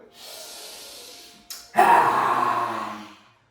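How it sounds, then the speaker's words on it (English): Forceful breath from a yoga lion breathing exercise done with hands on the knees and head lowered: a long steady nasal inhale, a brief pause, then a loud, rushing exhalation close to the mic. "hands on your knees, I'm putting my head down, inhaling through the nostril"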